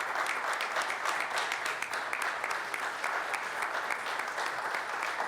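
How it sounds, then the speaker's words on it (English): Steady clapping from the audience at a Boston City Council meeting, a dense even patter of many hands sustained throughout at moderate loudness, with no voices over it. "You may clap."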